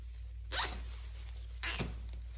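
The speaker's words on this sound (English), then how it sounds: "Let me go ahead and get a zip tie." Two quick ratcheting zips of a plastic zip tie drawn through its lock, cinching twisted pine branches on a deco mesh gingerbread Christmas wreath, each pull short and close against a steady low hum.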